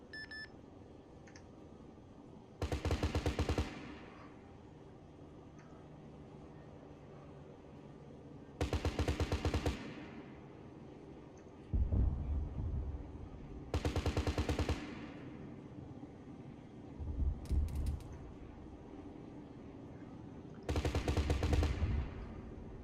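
Aircraft cannon fire in the ArmA III flight game rips out in five loud, sustained bursts of a few seconds each, separated by quieter stretches of engine drone.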